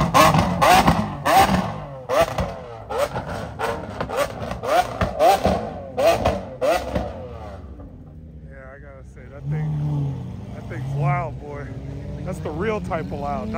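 A car engine at a cars and coffee meet revs loudly in a fast series of sharp bursts, then fades out and leaves people talking and a quieter engine running underneath.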